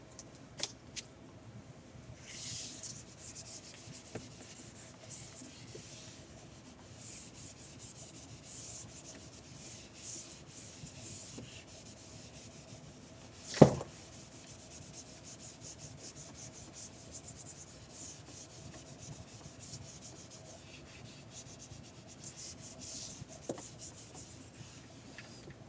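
A pencil writes on paper with a continuous soft scratching and rubbing that runs quietly throughout, broken once by a brief knock.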